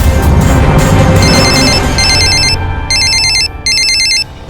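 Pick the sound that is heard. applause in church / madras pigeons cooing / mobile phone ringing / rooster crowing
mobile phone ringing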